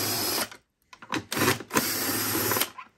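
Screws being driven out of the housing of a Thermomix C150 food processor with a power screwdriver, giving three short buzzing whirs separated by brief pauses, close up and with no one talking.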